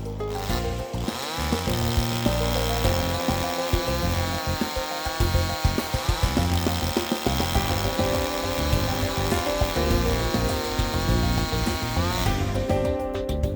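A Raider RDP GCS25 chainsaw with a 52 cc single-cylinder two-stroke air-cooled gasoline engine runs loud and close, its buzzing motor holding a steady high pitch with rapid dips and revs, continuing without a break.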